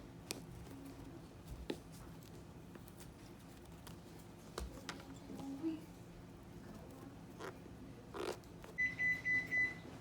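Kitchen oven chimes that it has finished preheating, a short run of four or five clear beeps near the end after quiet, faint clattering.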